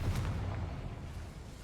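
A Confringo spell in Hogwarts Legacy goes off as a deep, rumbling blast, loud and close, fading into a low roar with no speech over it.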